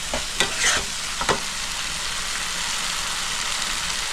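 Chicken gizzards sizzle in a pan on high heat while a spoon scrapes through them a few times early on, then a loud steady frying hiss continues alone.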